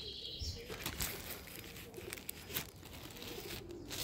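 Pigeons in a backyard breeding loft, being fed corn, beat their wings in several loud bursts of clattering flaps with soft cooing in between. The birds are close, and no one speaks.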